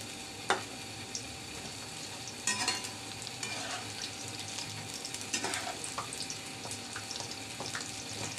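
Dried shrimp fritters (fuluri) fry in a pan with a steady, close sizzle, broken by a few sharp clinks and scrapes of stirring.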